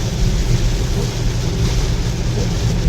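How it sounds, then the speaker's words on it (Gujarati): Heavy rain pounding a vehicle during a drive through a downpour on a Gujarat road choked with traffic: a dense, loud, continuous roar of rain and rumbling road noise, steady from start to finish. "ફૂલ વરસાદ આવે છે"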